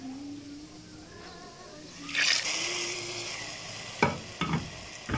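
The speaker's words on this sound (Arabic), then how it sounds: "تعالي بقى نسمعوا صوت الطشة مع بعض" A loud burst of sizzling as garlic and coriander hit hot ghee, frying steadily with a few sharp crackles and stirring scrapes near the end.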